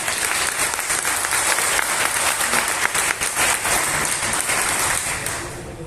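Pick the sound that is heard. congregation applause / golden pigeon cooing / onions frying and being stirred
congregation applause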